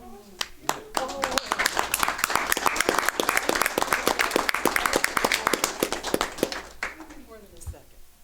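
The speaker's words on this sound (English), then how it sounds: "And we applaud you for that." Council meeting audience applauding a retiring county council member after 24 years of service, a dense, loud burst of many hands clapping that builds, holds steady, then fades with a voice near the end.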